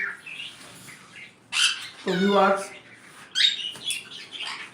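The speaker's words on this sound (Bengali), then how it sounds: "এই পাশে আছে একজোড়া খুব সুন্দর ব্লু কুলুর" Sun conures, blue conures and cockatiels call in bursts of chirps and squawks at a bird farm in Bangladesh, with a voice speaking briefly over them.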